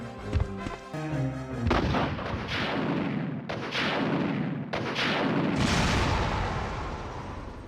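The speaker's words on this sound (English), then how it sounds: "Only a rocket launcher has the final word." A rocket launcher fires at a monster in the Resident Evil PlayStation game, giving a series of loud, heavy booming blasts with rumbling explosive tails, several in succession after a brief musical opening.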